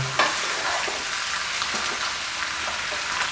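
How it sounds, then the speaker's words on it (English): Pork belly seasoned with salt and white pepper is stir-fried in a hot pan, making a close, continuous sizzle with scraping stirring strokes over about three seconds and no voices. "Stir fry the pork up here whilst it's burning."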